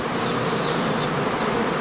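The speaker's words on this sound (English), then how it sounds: "Swarming begins with the first scouts pouring out of the entrance." Honey bees swarming out of the entrance of a heather skep in a heathland apiary, a dense, steady buzzing hum, close and loud without pause.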